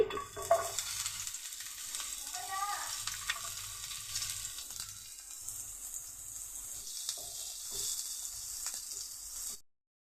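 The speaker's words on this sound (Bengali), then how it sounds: "প্যানে কিছুটা তেল দিয়ে দিয়েছি এখন পেঁয়াজ কুচিগুলি দিয়ে দিচ্ছি" Chopped onion frying in oil in a pan, a faint, steady crackling sizzle that continues evenly throughout with no talking.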